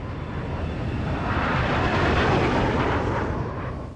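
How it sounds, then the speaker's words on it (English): Jet roar from F-16 fighter aircraft flying on patrol, a loud continuous broadband rush that swells toward the middle and holds steady with no voices. "He calls up 2 F-16 fighters patrolling nearby."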